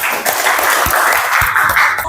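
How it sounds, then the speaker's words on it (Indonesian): A classroom group claps together at the start of a coding and artificial intelligence lesson in a short, loud, dense burst of applause lasting about two seconds. "Tepuk tangan buat kita semua."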